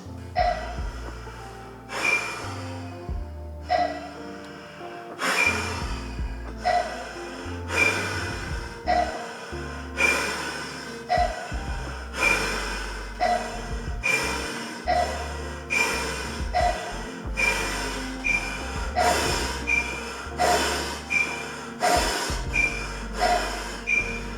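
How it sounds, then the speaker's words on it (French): A person breathing as fast as possible during a breathing-rate test for respiratory training, with loud, forceful inhale-exhale cycles repeating in a steady rapid rhythm, close to the microphone with no talking. "aller le plus haut possible en termes de respiration par minute"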